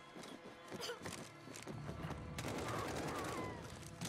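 AK rifle fire from the Modern Warfare campaign rattles out in quick bursts of sharp shots that swell into a sustained, loud volley, with scuffling movement between.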